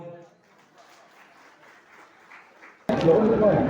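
An audience at a cheque distribution ceremony in Diphu breaks into loud applause near the end, after a stretch of faint, distant speech.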